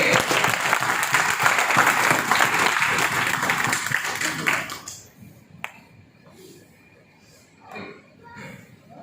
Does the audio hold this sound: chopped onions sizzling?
no